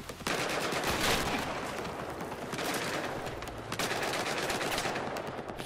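Sustained automatic gunfire in Battlefield 4, loud continuous bursts of shots that surge and fade several times with no talk.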